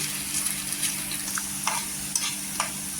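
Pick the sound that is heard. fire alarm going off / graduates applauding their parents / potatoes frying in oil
potatoes frying in oil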